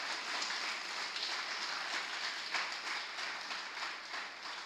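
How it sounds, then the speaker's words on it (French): A church congregation at a sermon claps and cheers in praise of God, a steady wash of applause heard from some distance, moderately faint and continuous with no break. "Acclamez bon Dieu fort, acclamez devant."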